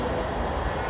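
Steady dense rumble of a metro rail train fills a very short moment, loud and continuous with no pauses and no talk.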